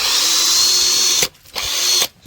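A cordless power drill that was left out in pouring rain runs in two loud, steady whirring bursts, each stopping abruptly, with a brief silence between them.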